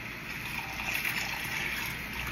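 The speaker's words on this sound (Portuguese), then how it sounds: "pode colocar uma quantidade de água que cubra o milho" Water pours over raw popcorn kernels in a bowl, a steady close rushing and trickling stream that runs without pause for the whole moment.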